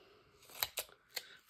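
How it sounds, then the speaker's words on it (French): Three short, crisp snips, spaced unevenly, close by with quiet between them, as scissors cut tape during cardboard box making. "Je vais venir couper."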